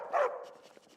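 A single dog bark in the video game Skyrim, fairly close and short, with faint background sound trailing after it.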